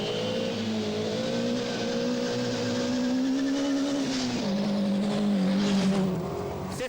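A rally car engine on a stage of the 1988 Cartel Rally drones steadily at high revs, pitch dipping briefly midway as it shifts, then climbing again; no voices.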